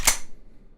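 One quick, sharp metallic snap of a pistol slide being racked, up close, ringing out briefly into quiet.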